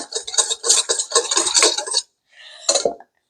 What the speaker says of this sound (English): Alright, so we're gonna whisk that up.